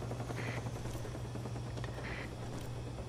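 Helicopter in Call of Duty Black Ops multiplayer, a steady low rotor drone running continuously under faint game noise, moderately distant.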